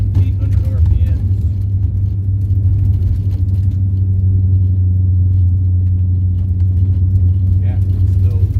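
An LS V8 swapped into a Porsche 944, cruising in third gear around 1700 rpm at roughly 25 mph, gives a loud, steady, deep engine rumble heard from inside the car for the whole stretch.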